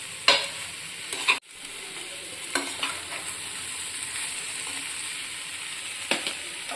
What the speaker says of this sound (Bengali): আবার আমি ভালো করে কষিয়ে নেব।